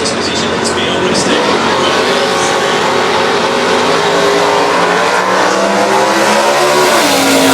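Tirana drag racing car launching at a winter nationals drag event, a loud sustained engine roar that climbs in pitch over several seconds, with an announcer talking over it.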